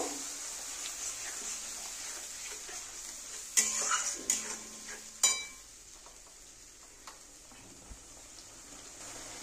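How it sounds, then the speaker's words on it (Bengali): Spice paste of salt, turmeric and Kashmiri chilli powder for a boal fish curry is stirred and cooked in a pan, with a quiet hiss and a few sharp metallic scrapes and clinks from the spatula. "এবার আমি মশলাটা ভালো করে কষিয়ে নেব"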